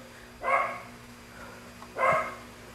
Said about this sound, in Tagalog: Ang ingay ng aso, no?